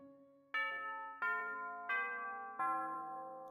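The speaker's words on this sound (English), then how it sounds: "the bells are signalling the end of the break" School bells from the visual novel Katawa Shoujo ring out the end of a lunch break: four bright, resonant chimes struck about every 0.7 seconds, each ringing on and overlapping the next, close and loud with no talking.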